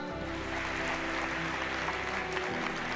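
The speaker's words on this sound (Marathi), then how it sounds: "एकदा जोरदार टाळ्या वाजवा" Loud, sustained applause from a live audience at a comedic speech event in Maharashtra, steady dense clapping filling the full stretch without a break.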